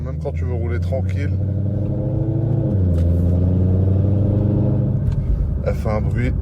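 A tuned sports car engine rumbles with a deep, steady low-frequency drone and shifting tone as it revs, heard close up from inside the car while people talk over it.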